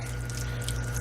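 Water pours into beef curry gravy in a Kerala-style beef and yam curry, a steady close splashing flow running evenly through the brief moment, with a low constant hum beneath and no talking.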